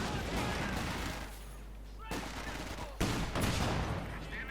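Gunfire from a sniper rifle and other weapons in the Company of Heroes 2 strategy game, with sharp cracks near 2.1 and 3.0 seconds standing out over a dense, continuous battlefield din.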